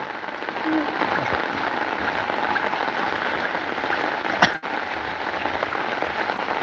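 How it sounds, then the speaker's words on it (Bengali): Steady rain falls through sunshine in a village, a dense, even patter running throughout at moderate loudness, with one brief sharp knock or clatter near the end. "রোদ হচ্ছে দেখ রোদের মাঝে বৃষ্টি"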